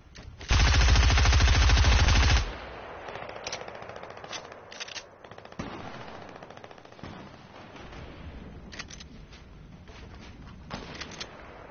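Rapid, loud burst of gunfire in a Fortnite match with a sniper rifle around, about two seconds of dense shots up close, followed by quieter scattered shots and movement noise.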